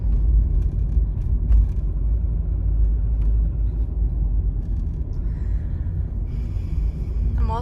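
A car drives along a forest road onto gravel, giving a steady loud rumble of engine and tyres throughout with no talk.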